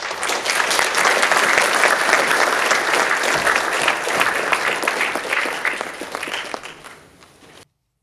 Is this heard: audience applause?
yes